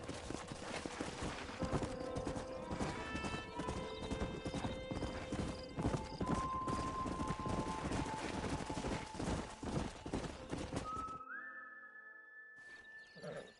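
Horses in the Red Dead Redemption video game clop along at a steady gait as one lets out a shrill whinny, with faint distant gunfire mixed in, before the hooves stop and a tonal game sound takes over.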